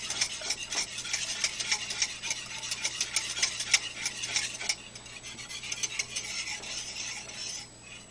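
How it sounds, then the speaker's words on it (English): A whisk beats milk-based cream gravy in a pan for chicken fried steak, a fast, steady run of close metallic ticks and scrapes against the pan over a faint sizzle, easing near the end. "Do not stop stirring it. Use a whisk."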